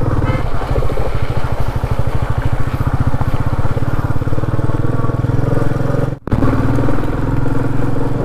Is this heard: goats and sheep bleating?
no